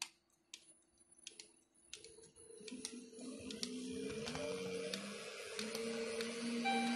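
A Shinegle 384V 120kW electric motor with gearbox, first a few clicks in near silence, then a rising whine and hum as it spins up and keeps running steadily, growing louder, with no talk.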